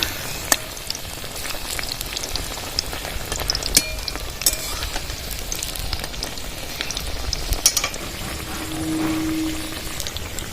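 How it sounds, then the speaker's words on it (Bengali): Puffed-rice cutlets sizzle and crackle in hot oil throughout, with scattered pops and a few scraping clinks, close and continuous with no voices. "এবার কাকলেটগুলো ভেজে নেব"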